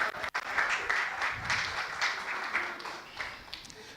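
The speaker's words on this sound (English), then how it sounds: "I think you should give me a round of applause." An audience at an economics report launch breaks into moderate applause, a fairly close wash of clapping that swells and eases over a few seconds, with a sharp click near the start.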